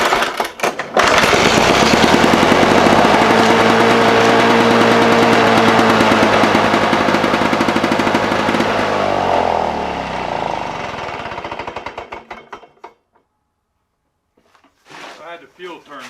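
Lawn-Boy lawn mower engine with the fuel turned off, cranked and firing: loud rapid sputtering pulses that run steadily for about ten seconds, then fade and die out, followed by near silence and a brief noise at the end.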